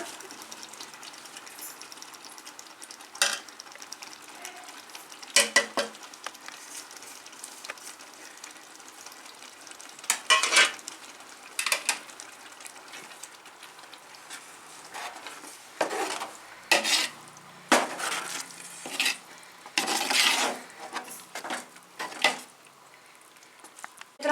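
Mahua chutney with sugar is stirred in a pan, producing quiet, scattered scraping and rubbing strokes that come in short bursts and grow busier toward the end, with no voices.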